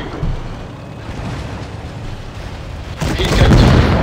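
Cannon fire and explosions from a tank battle in World of Tanks Blitz, with a louder boom near the end over steady battle noise, while a player's voice talks faintly underneath.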